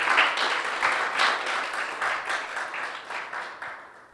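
Audience applause at an event celebrating Indigenous poets: a steady, dense patter of many hands clapping close by, holding strong for about four seconds before gradually thinning and fading, with no voices over it.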